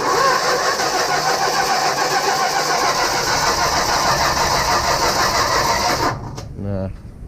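A 1965 Plymouth Barracuda engine, sitting three years, cranks over on a weakening battery: a loud, steady, rhythmic churning that runs for about six seconds and then stops, leaving a brief fainter mechanical rattle.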